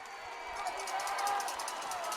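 Spectators at a Bridgewater-Raynham high school varsity football game cheer and roar in a steady wash of crowd noise, with a commentator speaking over it.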